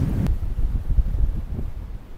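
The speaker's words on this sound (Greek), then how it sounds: "Φυσάει πραγματικά πάρα πολύ." Strong wind blowing by the sea on the coast at La Paloma, Uruguay, a steady loud buffeting rush with low rumbling gusts close to the microphone, no voices.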